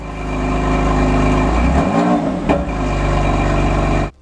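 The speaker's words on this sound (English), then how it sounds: "the M4 CS comes with an upgraded exhaust system that sounds way sportier and more aggressive" A BMW M4 CS with its upgraded sport exhaust drones loudly at high revs, dips briefly mid-way, then climbs again before cutting off abruptly near the end.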